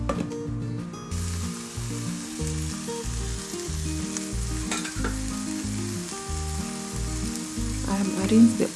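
Onions and vegetables frying and being stirred in a pot of Nigerian smoky jollof rice, a steady sizzle with repeated scraping stirs and clanks, close and continuous.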